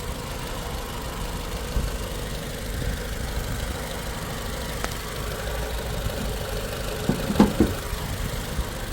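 A 2017 Toyota RAV4 2.5 AWD engine, started remotely while cold, idles steadily at low volume, a smooth mid-pitched hum with a couple of faint knocks near the end.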